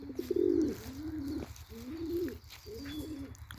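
A pigeon coos close by in several soft, throaty, rising-and-falling phrases, with a low steady hum in the background.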